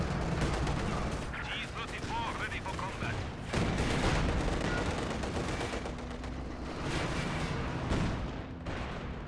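Gunfire and artillery in a World War II strategy video game battle, with dense bursts of shots and booms running continuously under a commentator's voice.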